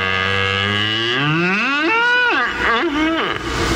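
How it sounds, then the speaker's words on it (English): A cow's long, loud moo played as a radio show sound effect, rising and wavering in pitch, heard alone and close. "Moo the Wonder Cow."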